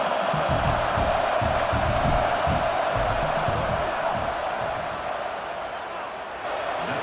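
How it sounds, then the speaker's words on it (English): A football stadium crowd roars steadily during a field goal attempt, a loud, continuous wash of cheering and yelling that eases slightly near the end. "This crowd trying to do its part to get inside the kicker's head."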